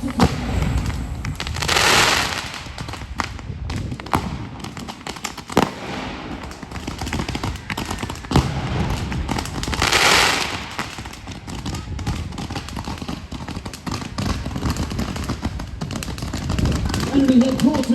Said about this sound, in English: Ajax, Achilles and Exeter unleash their rockets.